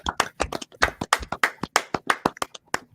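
A small audience applauds the actors after a staged telling of A Christmas Carol, with sharp, separate claps in an uneven patter that holds steady for a few seconds.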